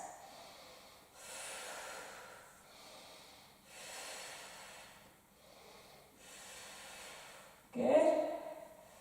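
Slow, audible breaths during Pilates bent-elbow rows with a resistance band, several long hissing exhales in a steady rhythm, ending with a louder, sharper snort-like breath.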